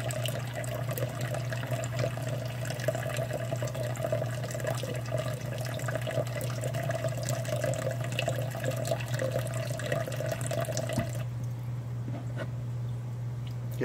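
Water flushed through a batch of black worms, a steady rushing stream with a constant hum beneath it that runs at an even level and drops away near the end.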